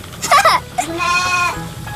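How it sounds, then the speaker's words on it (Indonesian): Local fat-tailed goats on a farm bleat in short, wavering cries close by, a couple of calls in quick succession with a faint, background murmur. "kambing yang kami pelihara ini adalah jenis kambing lokal. Atau masyarakat di sini menyebutnya kambing gibas"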